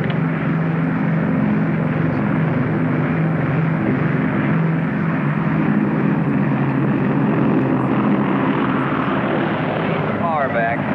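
A propeller aircraft coming in to land with full flaps in a 1950 film, a loud steady engine drone with a low hum running throughout, while a voice speaks briefly near the end.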